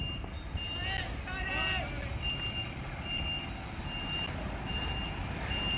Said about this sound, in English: a dump truck backing up, and I don't want to get run over